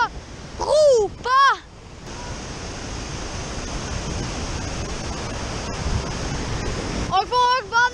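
A waterfall roars in a constant, heavy rush of water, with raised voices shouting over it at the start and end.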